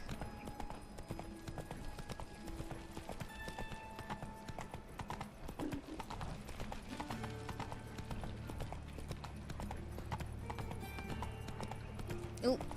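Roach, Geralt's horse in The Witcher 3: Wild Hunt, gallops along in steady, rhythmic hoofbeats that continue throughout the clip at a fairly quiet level, under background music and occasional speech.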